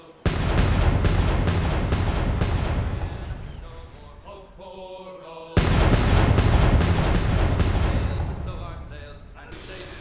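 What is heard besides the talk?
17th century ship cannons being fired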